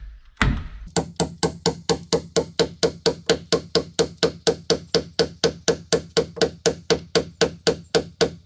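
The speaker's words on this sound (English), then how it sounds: "just drilling and hammering in pegs" A hammer drives wooden pegs into pre-drilled holes in hard oak barn posts with a steady rhythm of sharp, loud, close blows, roughly three per second, repeating over two dozen times.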